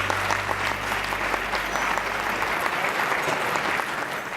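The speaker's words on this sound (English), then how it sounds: "Let's give him a round of applause." Loud, full audience applause welcoming Washington State Attorney General Bob Ferguson at a State of Reform conference, a thick, sustained roar of clapping at close range with a low hum underneath at first.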